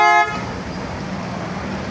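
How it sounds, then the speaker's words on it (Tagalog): A Superior bass car horn sounds in one short, loud blast at the start, then cuts off, leaving a steady engine and road hum underneath. "Kusog kayo, superior bass mga busing."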